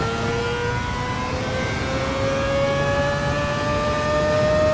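A race car engine in Gran Turismo on the Spa circuit in wet conditions, roaring loud and steady while its pitch climbs smoothly as the car accelerates through the gears.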